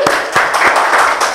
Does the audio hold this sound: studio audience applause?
yes